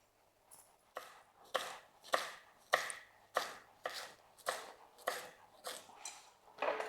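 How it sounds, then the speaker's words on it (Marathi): A knife finely chops rolled taro (colocasia) leaves on a board for crispy alu vadi. About eleven crisp, evenly spaced cuts sound close by and fairly quiet, with no talking between them. "अशीच मी सगळी पानं बारीक कापून घेते"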